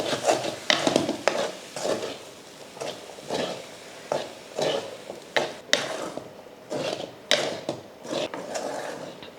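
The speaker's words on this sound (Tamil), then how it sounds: "அடுப்பை இப்போ சிம்மில் வச்சுட்டு அவ்வளோதான், இப்போ கிளறி விட்டுருவோம்." A spoon scrapes and stirs carrot egg rice in a pan over a low flame, in repeated rhythmic strokes with a faint background sizzle, close and fairly quiet.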